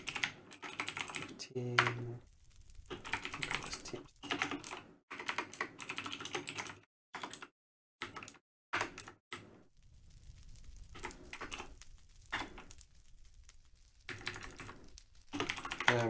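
Fingers type on a computer keyboard in quick bursts of close, crisp key clicks separated by short pauses, with someone speaking now and then over the typing.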